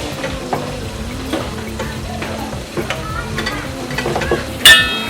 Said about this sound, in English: are frying the Vegetarian flour.